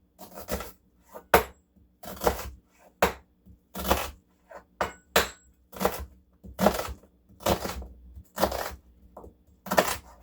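A knife chops a red onion on a cutting board in a steady, unhurried rhythm of sharp, close taps, a dozen or more strokes with short pauses between them.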